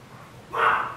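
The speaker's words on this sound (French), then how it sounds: "Ça parle devant ma porte, donc les chiens gueulent." Dogs bark behind a door at home, a single short burst arriving suddenly after a quiet room tone, fairly close and loud.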